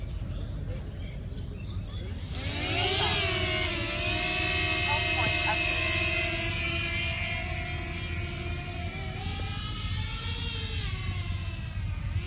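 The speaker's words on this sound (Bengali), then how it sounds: "তাহলে আমরা এই ড্রোনটা ফ্লাই করি" A small DJI Flip camera drone lifts off and flies, a rising whine of spinning propellers that starts after a quiet moment and then holds a steady buzzing hum, close and fairly loud.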